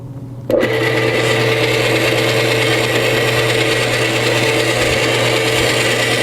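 Electric mixer beating torte batter, switching on abruptly and then running at a steady, loud, continuous whir with no talk.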